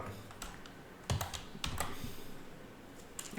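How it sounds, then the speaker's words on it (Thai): Key presses on a computer keyboard while working in Illustrator, a few sharp clicks spread out with short pauses between them, close and fairly clear, with no talking. "กดปุ่ม N บนคีย์บอร์ดไปหนึ่งทีนะครับ"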